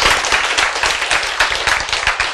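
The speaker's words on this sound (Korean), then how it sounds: "박수." A church audience claps together in dense, loud applause, many hands at once in a continuous rapid patter, close and filling the room.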